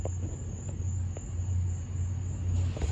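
A car engine idling through a rusted muffler with a hole, a steady low rumbling drone with a throaty pulse under a faint high whine, close and continuous with no talking.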